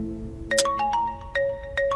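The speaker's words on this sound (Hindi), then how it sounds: "अरे मेरी घरवाली का फोन आ रहा है, क्या करें?" Mobile phone ringtone for an incoming call, a short bright electronic melody of repeating tonal notes, fairly clear and close with no talk.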